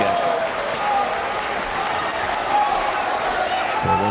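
Crowd at a snooker match applauding steadily, a dense sustained clapping that fills the whole stretch at a fairly loud, even level without letting up.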